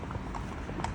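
Horses hacking along a main road, hooves clip-clopping in a quick, close, steady rhythm on the tarmac.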